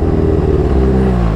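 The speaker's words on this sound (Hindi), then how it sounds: "मुझे पीछे से मेरी डर्ट बाइक की आवाज आ रही है" A dirt bike engine revs briefly and loudly up close, with a throbbing, rising and falling note.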